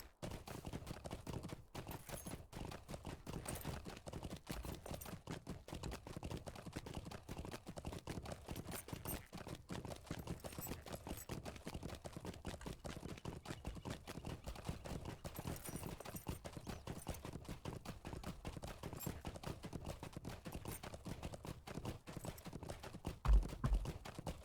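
Horse hooves in a video game clip-clop in a fast, continuous, even rhythm for over twenty seconds, close and steady, with no talking.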